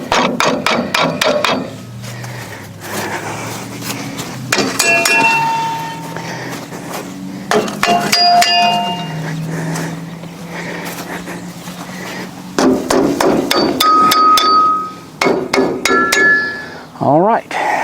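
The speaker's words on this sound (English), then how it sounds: "Tap them with a hammer." Sharp metallic hammer taps knock dirt off Farmall Super A1 tractor parts, arriving in quick clustered bursts of several blows with pauses between, close and fairly loud over a low engine-like drone.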